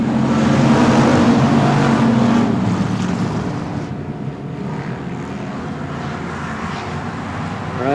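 Race cars roar along the backstretch at Texana Raceway Park during a summer showdown night, a loud continuous engine drone that swells and then eases slightly as the pack passes.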